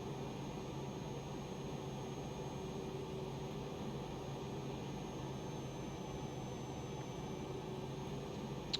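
Cirrus Vision Jet engine during a climb in the X-Plane 11 flight simulator, a steady, fairly quiet broadband jet roar with a faint constant whine and no change throughout, no talk.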